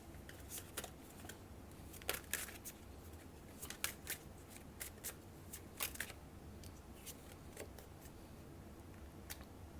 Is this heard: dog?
no